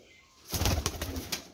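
Sialkoti golden flying pigeons, a bandh-tailed breed, give a short burst of close cooing and wing-fluttering activity that starts abruptly after a quiet moment, with no talk over it.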